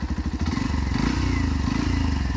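An FZ-X motorcycle engine runs close by with a rapid, throbbing pulse that stays loud and steady throughout, with no talking.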